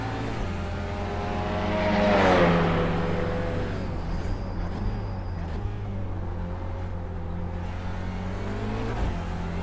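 A touring car in the iRacing sim roars steadily at high revs, its engine tone swelling as it climbs through gears and then holding a loud, continuous drone.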